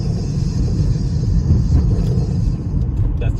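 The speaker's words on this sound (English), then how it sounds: "That's the sound of a fuel ship as it sank off the coast of southeast Tunisia Friday." A fuel ship sinking off the southeast coast of Tunisia gives a steady, loud low rumble with a churning roar, continuous and without talk.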